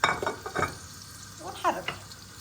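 Vegetables tipped into a hot frying pan, opening with a sharp splash of sizzling and then quieter, intermittent frying and stirring scrapes close by, with faint low voices in the background.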